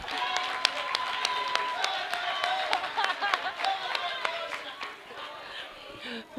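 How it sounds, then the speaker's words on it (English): Scattered applause from an audience honoring youth parliament members, a light crowd clapping with distinct individual claps, fairly quiet and fading out toward the end. "Can we actually give them a round of applause?"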